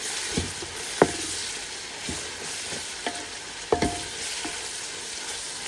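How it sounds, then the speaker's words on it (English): Spoon stirring biryani ingredients in a pot over the stove, with soft frying sizzle underneath and a few sharp scrapes and knocks against the pot at irregular intervals. "So give it a nice mix"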